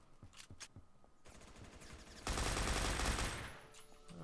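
Gunfire in the online shooter game Phantom Forces, a few sharp single shots followed by a dense rattling automatic burst that swells loud, then tapers into scattered distant cracks.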